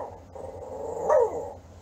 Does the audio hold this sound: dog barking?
yes